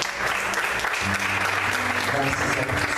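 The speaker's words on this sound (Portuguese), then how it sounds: "Vamos aplaudir o Senhor," Church congregation applauding together during a Portuguese-language worship service, a dense, steady wash of clapping from many hands filling the room, with a few voices mixed into the ovation.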